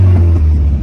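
A 1996 Mazda Miata engine revs hard with a badly leaking exhaust, giving a loud, close, continuous low rumble with a brief rising surge at the start.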